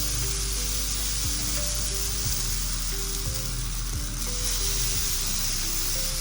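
Ragi dosa batter sizzling loudly on a hot pan, a dense continuous frying hiss heard close up with no talking over it.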